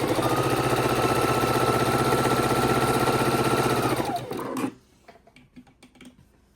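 A sewing machine stitches quilt strips together, a steady loud mechanical whir for about four seconds that winds down and stops, followed by faint handling clicks and rustles.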